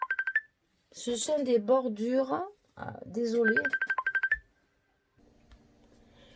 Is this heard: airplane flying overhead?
no